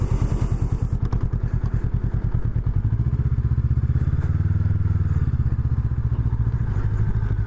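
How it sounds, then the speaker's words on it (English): A Honda Rebel 500 motorcycle pulls away and rides, its engine giving a steady close-up throbbing pulse that builds as it accelerates, with no one speaking. "So let's get her going here and see how this bike rides."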